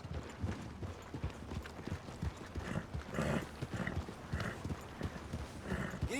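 A horse ridden along at a steady pace in Red Dead Redemption 2 gives a continuous, even clip-clop of hooves, close and clear, with a brief whinny and soft game ambience beneath.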